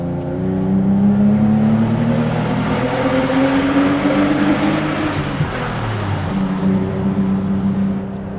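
A 1985 BMW M635CSi straight-six engine revs steadily and climbs in pitch, a smooth continuous drone with rising tones, loud and close.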